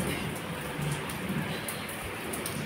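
Rain pours down steadily outdoors, a dense, even hiss of drops close by with faint patters on surfaces, and no voices present.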